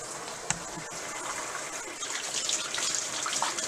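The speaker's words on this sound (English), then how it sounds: "Okay, rinse your hands off." Tap water running steadily into a sink as hands are rinsed during meatball prep, a close, even gushing hiss with small splashes throughout.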